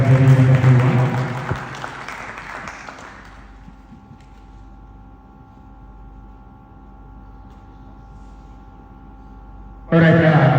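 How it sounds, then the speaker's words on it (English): Audience at an energy conference applauding a professor: about three seconds of loud, dense clapping that cuts off into a low hum of room noise, then a brief burst of sound returns at the very end. "please a round of applause for Professor for that very wonderful one"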